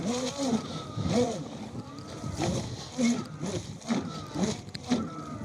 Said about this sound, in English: the propeller is coming in and out of the water